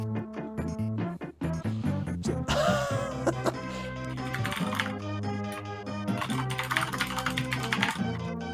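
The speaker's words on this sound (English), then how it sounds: "You're probably hearing typing now." Close computer keyboard typing picked up by a gaming commentator's open mic, fast irregular clicks running throughout beneath loud game music and tones.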